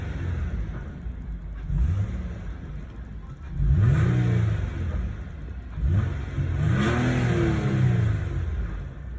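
A Nissan Altima Coupe 3.5 SE engine, just after an oil change, revs up in three rising swells, each climbing and falling back toward idle, heard close with no talking.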